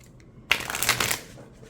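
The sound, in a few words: shuffling an oracle card deck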